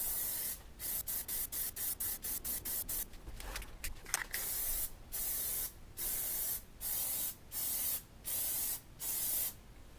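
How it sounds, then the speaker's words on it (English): An aerosol can sprays Plasti Dip coating onto a helmet in light passes: first a run of quick short hisses, then a row of longer, evenly spaced bursts about a second each, near and steady. "Just like the first coat, you don't want to spray it on heavy"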